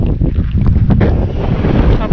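Strong outdoor wind buffets the microphone on a rural trail in the Bni Zehna area of Morocco, a loud, continuous low rumble with gusty surges and no break for the whole stretch.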